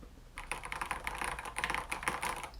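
Rapid, even keystrokes on a COX CK108 keyboard with Gateron Yellow switches and SA keycaps, a close, dense clatter of clicks that starts after a short pause and runs continuously, with no voices.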